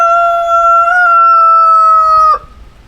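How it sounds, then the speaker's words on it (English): A rooster at a backyard chicken coop beside a vegetable garden and orchard lets out one loud, close crow that holds its pitch for about two seconds before cutting off abruptly into quiet. "There's the rooster letting us know who's boss."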